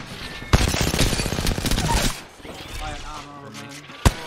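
Automatic gunfire rattles in a rapid burst in the Apex Legends video game, then stops, followed by quieter game sounds and a final sharp shot, with a player talking over part of it.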